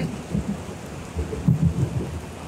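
Thunder rumbles in low, rolling bursts over steady heavy rain drumming on a tent during a monsoon storm, with the loudest rumble swelling midway and no voices.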